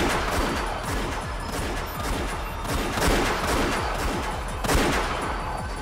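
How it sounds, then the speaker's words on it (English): Sustained bursts of gunfire from the Umineko visual novel, dense rapid volleys rolling continuously at full loudness with sharper peaks around the third and fifth seconds, no voices. "As soon as I heard the sound of repeated gunfire, I knew."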